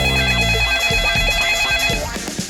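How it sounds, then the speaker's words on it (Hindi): A telephone rings with bright, repeated electronic bell tones in a quick pulsing pattern, loud and close, layered over low background music. "फिर से फोन आ गया।"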